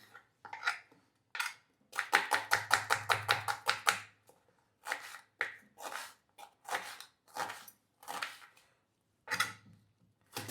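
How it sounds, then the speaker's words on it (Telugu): Onions are chopped on a board for an onion chutney, with a knife thudding in quick bursts. A rapid run of strokes is followed by slower, spaced cuts, close and clear with no talk. "సన్నగా కానీ మీకు ఇష్టమైన సైజులో ఆనియన్స్ని కట్ చేసుకోవచ్చు."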